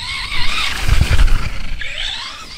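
Steering servo on an Arrma Granite BLX V3 RC car, upgraded with an Amazon servo, whining in brief high strains during an outdoor bash, close and fairly loud amid rolling and skidding noise.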